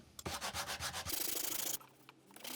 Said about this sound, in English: you will have to continue sanding with the same paper